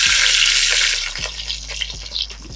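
Small onions tipped into hot oil with popped mustard seeds, a loud broadband sizzle at first that settles into quieter frying with scattered crackles and a few low thumps of handling.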